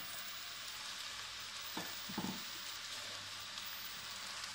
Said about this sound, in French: Et on va dans un premier temps suer nos oignons.